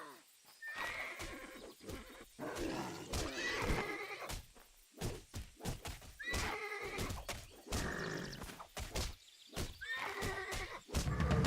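Repeated horse whinnies and snorts in the video game Titan Quest, mixed with sharp hoof clatter and impacts, loud and busy throughout, with a brief voice in the background.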